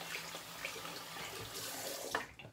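Tap water runs steadily into a sink for a short burst while a shaving brush is re-wetted during a wet shave, then cuts off near the end.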